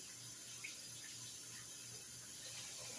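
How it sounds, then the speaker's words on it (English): A kitchen tap runs steadily into a sink as hands are washed, a soft continuous stream with faint splashes and a low hum beneath, no voices. "let me wash my hands right quick"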